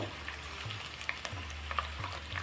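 Chopped garlic frying in hot oil in a pan, a steady crackling sizzle with occasional sharper pops, close and continuous with no talking.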